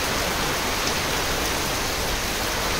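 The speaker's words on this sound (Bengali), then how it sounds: "দেখেন ঝুমঝুম বৃষ্টি, টিনের চালে বৃষ্টির শব্দ।" Heavy rain pours onto a tin roof in a dense, unbroken drumming hiss, loud and close, with no voices.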